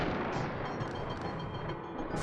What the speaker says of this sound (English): The ones with a skull on it explode